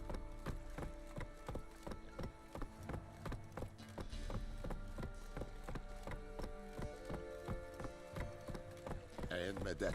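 Roach, a horse in The Witcher 3, gallops with a steady run of hoofbeats under a dense layer of game music and sound effects.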